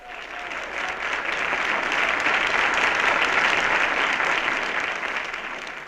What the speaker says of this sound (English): Applause was forbidden, but after his song, the audience couldn't be held back.